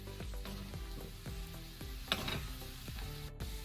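Spices are stirred into sizzling chicken perattu, a low steady fry sizzle under repeated scraping and tapping strokes of a spoon against the pan, close up, with no voices.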